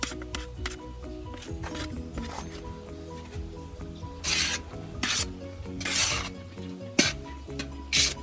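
Food is stirred and scraped in a pan under a constant low sizzle, with bursts of rasping strokes every second or so.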